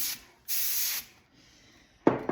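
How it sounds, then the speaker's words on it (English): Compressed air blasts alcohol ink in short, sharp hissing bursts, two longer sprays then a brief sputtering one, close and loud with quiet gaps between. "Oh, my air is fizzing out on me."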